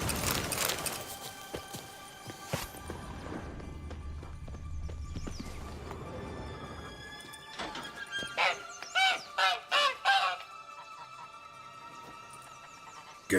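A caged bird in The Witcher 3 game lets out a quick run of about six loud, rhythmic honks, preceded by quieter scattered game sounds.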